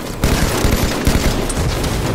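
Rapid bursts of automatic gunfire from the Halo 5 video game, dense and loud, with repeated shots running continuously.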